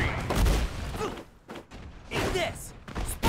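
Spider-Man's Spider Cannon attack in a Marvel vs. Capcom fighting game: loud, punchy bursts of blasts and thuds separated by short gaps, with a character's voice shouting over the impacts.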